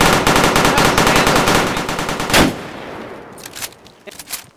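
Automatic gunfire in the survival game DayZ rattles in a rapid, loud burst of shots for about two seconds, followed by a few scattered, fainter shots.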